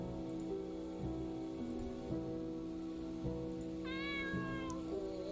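A cat in a video game meows in a short, bright call partway through, heard over a steady droning game soundtrack with faint regular ticks.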